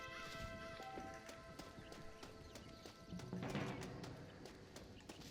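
Horse hooves clip-clop in a steady trotting rhythm in the video game Red Dead Redemption, moderately close, with a brief whinny and a livelier burst of hoofbeats and clatter midway.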